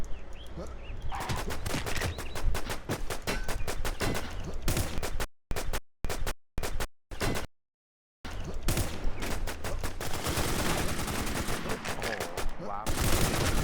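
Rapid bursts of gunfire from the online survival shooter Infestation, dense and loud, cracking shot after shot with brief dead gaps of silence midway, then resuming in heavy volleys.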